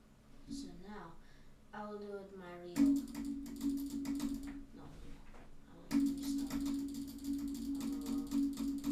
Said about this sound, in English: this is butterfly clicking.